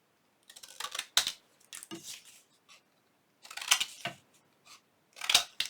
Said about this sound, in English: I think I just do this with my scissors easily